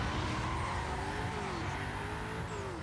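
A black BMW M5 roars steadily in Need for Speed: Hot Pursuit during a time trial, its engine droning at a high, constant pitch with a slight rise and fall as it holds speed.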